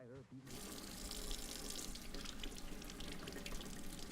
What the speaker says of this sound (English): Scrub your hands, the two of you.